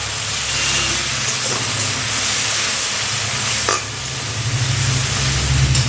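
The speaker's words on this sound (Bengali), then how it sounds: "মশলাটা দিয়ে দেওয়ার পর এই পেঁয়াজের সঙ্গে একটু ভালো করে কষিয়ে নিতে হবে।" Spice paste fries with onions in a pan, a steady loud sizzle and stirring hiss that carries on throughout with no pauses or voices.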